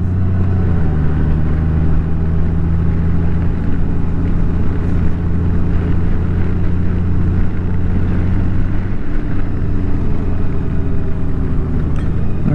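Motorcycle engine droning steadily while riding on a cool fall morning, a loud, close, continuous low hum with a slight pitch shift midway and wind rushing across the microphone, no talking.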